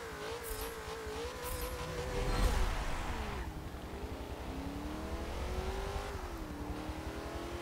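A 1974 Holden Sandman HQ panel van in Forza Motorsport 7 drives a lap, its engine note rising and falling steadily through gear changes with a continuous close hum.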